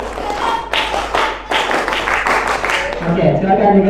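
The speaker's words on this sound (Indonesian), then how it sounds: "sekarang semuanya tepuk pramuka" A classroom group performs scout-style patterned clapping (tepuk pramuka), bursts of rhythmic claps in short groups with gaps between, loud and close, with voices speaking and chattering toward the end.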